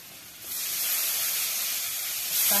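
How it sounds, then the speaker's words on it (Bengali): Chopped onions hit hot oil with turmeric and salt in a pan, bursting into a loud, bright, steady hiss that swells and keeps sizzling up close. "এখন দিয়ে দেব এই যে পেঁয়াজ কুচিগুলো"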